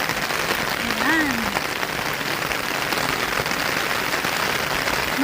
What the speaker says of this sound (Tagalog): Ang laki ng butil ng ulan.